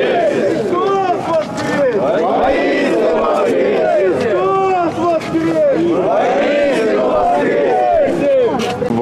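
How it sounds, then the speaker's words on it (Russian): Orthodox believers at an Easter celebration in Kuban greet the Holy Fire with loud, festive crowd exclamations, a dense jubilant babble of many voices shouting and cheering continuously up close. "Православные верующие с ликованием и праздничными возгласами встретили символ возрождения"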